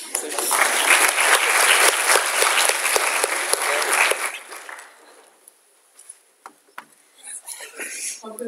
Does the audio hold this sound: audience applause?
yes